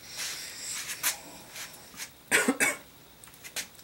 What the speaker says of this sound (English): Wow, the smell's kind of making me cough.